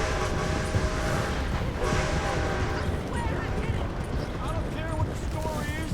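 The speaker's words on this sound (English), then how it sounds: "Try to beat the train." A train rolls past in Red Dead Redemption 2, a steady broadband rumble with rail clatter and a high tonal horn-like whine, loud and continuous throughout, mixed with game ambience and faint voice.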